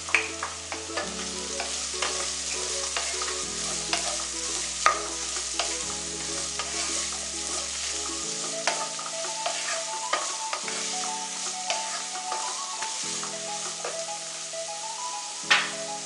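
Sliced onions sautéing in a pan for a crab roast, with steady sizzling and repeated spoon scrapes and stirs close up, heard under a layer of background music and with no talking.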